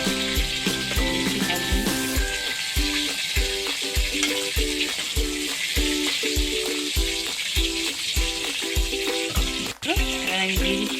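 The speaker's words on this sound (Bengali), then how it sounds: "চিংড়ি মাছটা বেশি ভাজবো না, হালকা করে ভাজবো" Prawns frying lightly in a pan make a sustained, close sizzle. Regular scraping stir strokes repeat about twice a second over a constant hum, and one sharper knock comes near the end.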